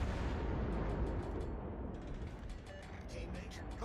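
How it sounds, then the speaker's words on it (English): Torpedo fire in a naval video game, a low continuous rumbling roar with faint clicks and mechanical ticks on top, steady and fairly quiet throughout. "Torpedoes, direct front."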